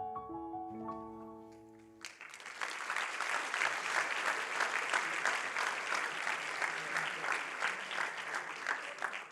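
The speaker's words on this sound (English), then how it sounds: "Applause for Jakob Engel-Schmidt" Applause from a conference audience at an EU copyright event bursts in after a brief musical tone, building into sustained, dense clapping that carries on steadily to the end.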